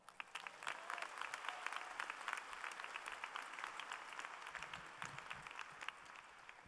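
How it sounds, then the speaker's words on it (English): A university commencement audience applauds at the UCLA Political Science Department ceremony, a steady, dense wash of many hands clapping that holds without a break for several seconds, heard from within the hall with a faint murmur of voices underneath. "Please give a warm and well-deserved round of applause for"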